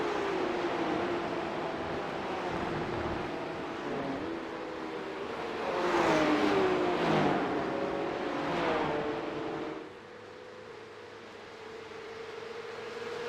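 Porsche Cup race cars racing at Watkins Glen, several engines rising and falling as they pass close by, with a loud surge around the middle before the roar drops to a steadier distant drone.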